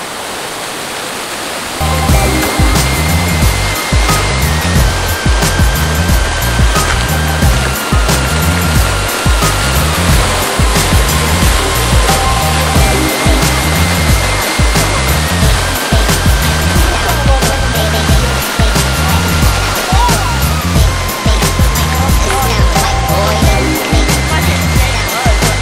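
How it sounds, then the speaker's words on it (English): A water fountain at Kauffman Stadium in Kansas City rushes in a steady, loud, broadband wash of falling water that starts abruptly and runs on without a break. "We're right here by the fountain that goes to life."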